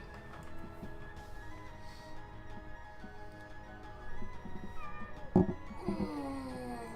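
An in-game cat near Silvermoon meows a few times toward the end, over a steady bed of game music and ambient tones, with no talk.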